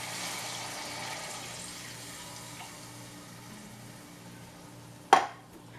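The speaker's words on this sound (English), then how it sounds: "And now I'm gonna add my beef consommé," Liquid beef consommé poured into a pot gives a steady, soft splashing and trickling, followed by a sharp clunk near the end as the pouring stops.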